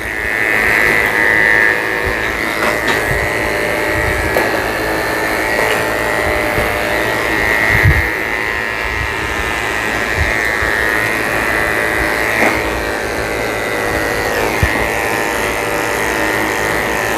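Electric clippers hum steadily and closely throughout while shaving a Shih Tzu-Poodle's tail, a constant buzzing drone with small shifts in pitch as the blade moves through the fur.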